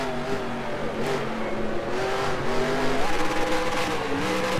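Race car engine in NR2003 at Watkins Glen howls steadily, pitch rising and falling as it shifts and brakes, with brief tire squeal and faint background talk.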